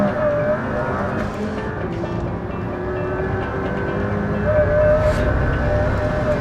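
McLaren P1 supercar accelerating hard around a circuit, a loud, sustained engine roar with rising and shifting tones, heard steadily from close inside the car.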